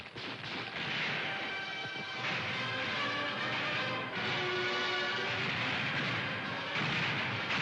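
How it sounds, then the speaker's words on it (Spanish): Dense, continuous bursts of gunfire crackle and boom without pause, echoing loudly across open streets during a Cold War-era street uprising. "Da peitschen die ersten Schüsse durch die Straßen."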